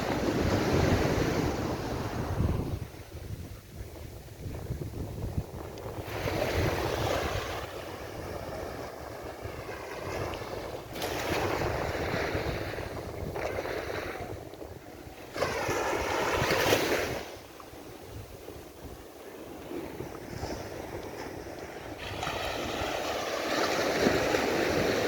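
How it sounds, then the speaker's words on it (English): Surf washing ashore at Barbados Beach in Carlisle Bay, a steady broad wash of waves mixed with gusty wind buffeting the microphone, swelling and easing over time with no voices. "here's Barbados Beach on in the Carlisle Bay area"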